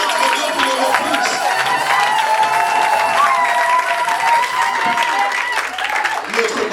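A church congregation applauds and cheers steadily, dense sustained clapping filling the room throughout, with voices and a faint tone underneath.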